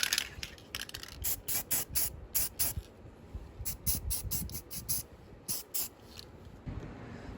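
Paint being sprayed onto a steering part of a hydrostatic mower: short, sharp hissing bursts of aerosol in quick repeated clusters, fairly close, with quiet pauses between groups.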